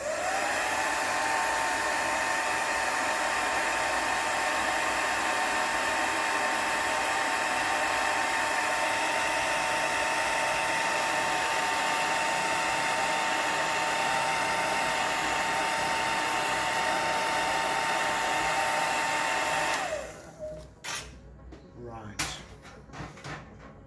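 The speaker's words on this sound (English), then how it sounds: "I'm going to just heat this with a bit of my dryer." A hair dryer blowing hot air onto wet collage elements in a journal, a loud, steady whirring hiss that runs for about twenty seconds, then cuts off and gives way to a few light handling knocks and rustles.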